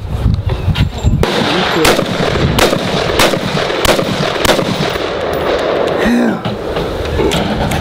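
A brand-new AR-15 rifle fires outdoors in a quick series of sharp, loud cracks spaced roughly evenly, with background noise between the shots.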